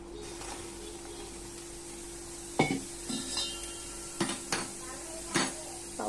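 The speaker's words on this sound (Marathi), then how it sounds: "आता याच्यात आपण तांदूळ टाकून घेणार आहोत। व्यवस्थित मिक्स करून घेऊया।" A spoon stirs rice in a metal pot for a prawn pulao, with soft sizzling and a few sharp clinks of utensil against the pot spaced through a low, steady kitchen background.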